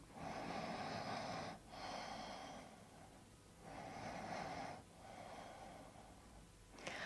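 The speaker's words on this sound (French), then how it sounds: "3 respirations profondes encore ici." Slow, deep breaths drawn during a yoga stretch, three long airy inhale-exhale cycles in a steady rhythm, close and fairly loud, with no talking.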